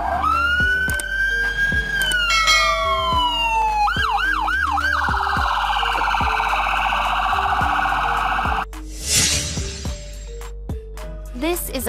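An ambulance siren wails in loud, close, rising and falling sweeps, shifts into a rapid yelping pattern, then gives way to a burst of harsh noise and shorter tones.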